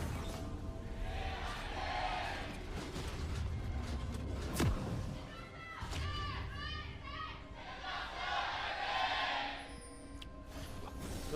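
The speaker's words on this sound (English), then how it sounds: "A little bit of an erupted cheer for SANDBOX" Spectators at LOL Park cheer for SANDBOX during a Griffin versus SANDBOX League of Legends esports match, and the crowd noise swells and fades in waves, fairly distant, beneath steady in-game sounds.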